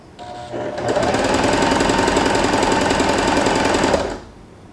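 A Janome Arctic Crystal 311 sewing machine starts, speeds up to a steady, rapid mechanical chatter of needle strokes for about three seconds, then winds down and stops.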